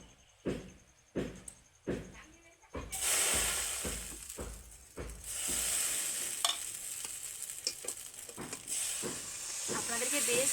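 Semolina snack pieces frying in hot oil in a wok, a loud steady sizzle that swells after a few sharp clatters and stirring knocks, continuing with bubbling crackle throughout.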